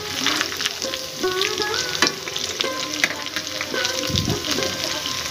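Chips-style chicken pieces fry steadily in a pan over a low flame, giving a loud, continuous close sizzle and crackle with some stirring and scraping, and no talking.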